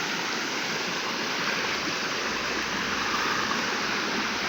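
Steady rushing water of a river on a farm flows continuously, a broad, even wash of sound like small rapids close by, with no voices.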